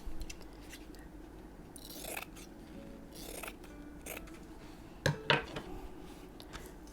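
Scissors cut fabric for a handmade journal binding, giving a few quick, crisp snips late in the moment against quiet background handling and rustling.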